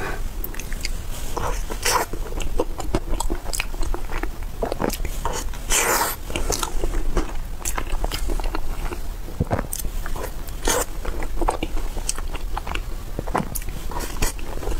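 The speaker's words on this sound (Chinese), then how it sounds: "还是抱着啃过瘾呀" Close, steady gnawing and biting into pieces of spicy mutton curry meat, with wet chewing and crunchy tearing bites repeating throughout, no talking.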